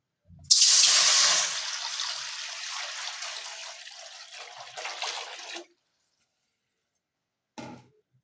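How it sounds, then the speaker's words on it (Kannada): Water is poured into a kadai while a banana stem stir-fry is being prepared: a loud, steady splashing pour that lasts about five seconds and then stops, followed later by a short clatter. "ಸ್ವಲ್ಪ ನೀರು ಹಾಕ್ತಾ ಇದ್ದೀನಿ"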